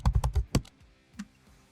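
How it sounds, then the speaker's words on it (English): Typing on a computer keyboard in all caps while laying out a poster in Photoshop: a quick burst of close, crisp key taps in the first half second, then a few softer, scattered keystrokes and a space bar press. "We're going to type the new position all in caps"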